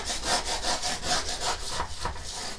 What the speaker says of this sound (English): I am going to burnish this to make sure that it stays on.